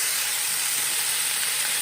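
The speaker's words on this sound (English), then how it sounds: "as I let this get sauteed, it's going to pick up all the delicious brown bits in the bottom of that pan" Beef sautéing in a soup pan gives off a steady, dense sizzle and hiss that stays loud and even throughout, with no voices over it.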